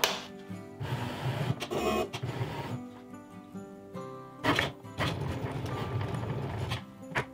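A Cricut Maker 3 cutting machine works on a personalised keychain, with soft mechanical whirring, ticking carriage movements and intermittent clunks in an irregular rhythm, fairly quiet and close.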